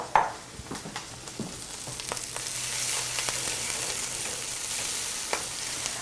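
Two cups of fresh destemmed kale stirred in a hot pan as it wilts, with a steady close sizzle and frying hiss broken by light scraping stirs.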